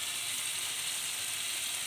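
Rice sizzling and hissing as it goes into hot ghee in a cooking pot, a steady, even frying crackle with no voices over it.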